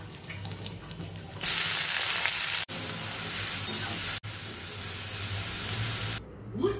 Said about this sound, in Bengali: রসুন দিয়ে মূলো শাকটা ভাজা করছি